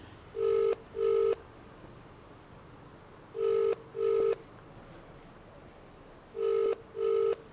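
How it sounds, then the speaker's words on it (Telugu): A telephone ringback tone sounds while a midnight call to a Congress MLA goes through: three pairs of short, steady double rings, each pair about three seconds apart, clear over a faint hiss with no talking. "ఎమ్మెల్యే గారితో మాట్లాడదామండి నాకు తెలిసి ఫోన్ లిఫ్ట్ చేస్తాడో లేదో"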